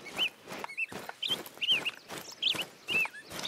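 A wild turkey in theHunter: Call of the Wild gives a run of high, quavering gobbles and clucks, fairly close and repeated in uneven bursts over quiet surroundings.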